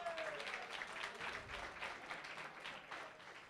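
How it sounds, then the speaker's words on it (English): Applause at a bench press championship awards ceremony, a quiet, steady patter of clapping from a distant audience, running continuously with no voices over it. "Give her a big round of applause."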